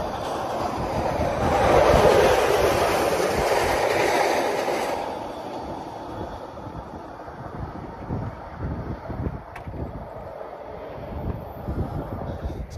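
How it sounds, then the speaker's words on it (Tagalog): A subway train passes nearby, a loud rushing roar swelling then fading into rhythmic clickety-clack of wheels on the rails, with wind buffeting the microphone. "So yun ang subway train mga master."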